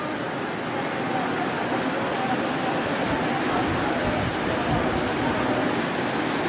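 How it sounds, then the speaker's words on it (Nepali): Rain falls steadily outdoors, a dense, even hiss of drops that holds at the same loudness throughout with no voices over it. "पानी पऱ्यो म भित्र जान्छु ल"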